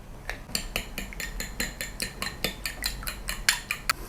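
An egg is beaten in a bowl with a fork or whisk for a Chinese pulao, making rapid, regular clinking taps against the bowl, close and fairly loud, with no talking.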